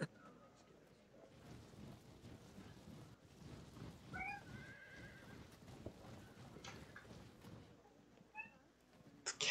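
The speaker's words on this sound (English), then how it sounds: "cat is yelling at me" A house cat gives a few brief meows, fairly faint against a low background.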